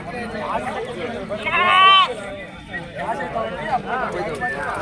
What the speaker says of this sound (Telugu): ఇవి కటింగ్ పర్పస్ గొర్రెలు